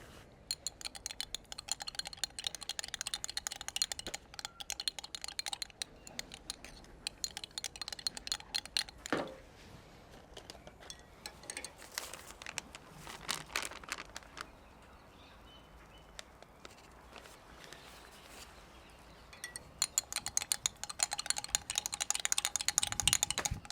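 A spoon stirs tragacanth thickener into homemade nettle and mugwort plant ink, giving faint, close scraping and clicking against the container in irregular bursts, with soft pauses between stirs.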